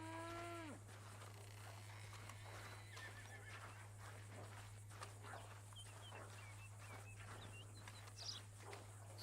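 Cattle moo and a horse whinnies among farm animals in the Red Dead Redemption 2 video game, with occasional hoof clip-clops and a steady low hum underneath, quiet and with no talking.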